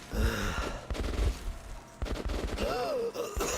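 Gunshots in Metro: Last Light Redux, with several close, dull shots and bursts mixed with heavy breathing and voices, spread irregularly across a short stretch.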